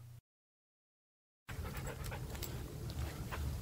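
Eight-week-old Airedale Terrier puppies play in San Diego, with quick, close panting and small scuffling noises after a brief dropout of silence.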